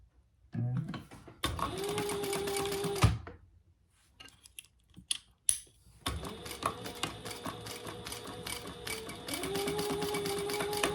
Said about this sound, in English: I can feel feel my pocket in there, so I back stitch just a little.